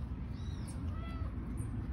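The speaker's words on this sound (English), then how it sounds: "So this is the mommy kitty who made all the little kittens y'all see." A mother cat meows once, faint and drawn out, over a steady broadband background rumble, with no talking.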